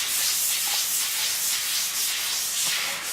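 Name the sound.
sanding a bowling ball's surface to resurface it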